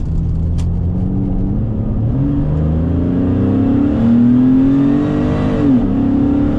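A 1997 Porsche 911 Turbo S of the 993 generation accelerating hard from inside the cabin, its engine note rising steadily in pitch through a long pull with a brief dip near the end, loud and continuous with no speech.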